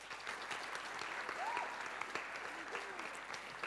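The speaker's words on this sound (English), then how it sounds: "Clap if you agree." An audience at a JavaScript conference talk applauds in a broad, sustained wash of many hands clapping, moderately loud and filling the room, with a few voices faintly mixed in.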